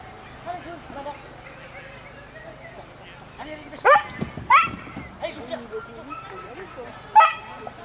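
A dog barks and yips in sharp loud bursts at a French dog agility competition, several barks spaced over a few seconds, with people talking in the background.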